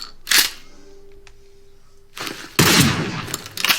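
Burst-fire gun in the Phantom Forces shooter game, loud close bursts of broadband shots arriving in quick clusters, a sharp one early and a heavier dense volley toward the end.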